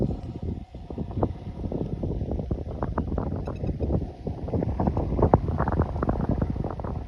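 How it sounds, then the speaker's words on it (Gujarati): Strong wind buffets the microphone in heavy rumbling gusts, a constant blustery roar that swells and dips throughout. "પવન પણ બહુ છે"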